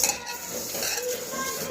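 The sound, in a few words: mixing pulao rice by hand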